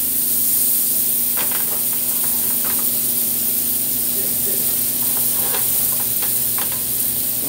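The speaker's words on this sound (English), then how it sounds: "Just start putting some butter in the pan" Butter sizzles loudly and steadily in a hot pan for searing scallops, a constant close hiss with small crackling pops scattered through it.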